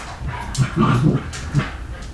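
Dogs whimper and give short yips and barks close by, several brief bursts in quick succession.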